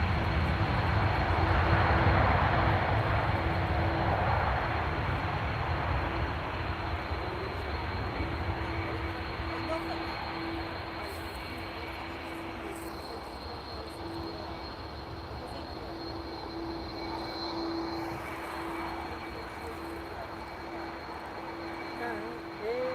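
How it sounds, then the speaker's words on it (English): An airliner jet engine roars steadily at a distance at Lisbon Airport, a broad continuous rumble with a faint high whine running through it. "Hear that engine super loud."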